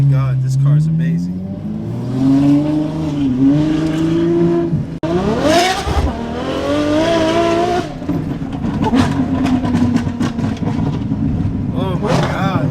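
Ferrari engine revving hard while driving, heard from inside the car: loud rising and falling engine tones sweep up through the gears with brief shifts between, continuous and close, with excited talk over it.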